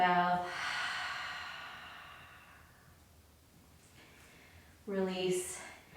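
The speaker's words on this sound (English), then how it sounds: "Inhale through the nose. Exhale out the mouth." A yoga practitioner exhales audibly out through the mouth in a long, breathy sigh that fades over a couple of seconds, followed by a second sharp breath near the end; close and fairly soft, with no speech.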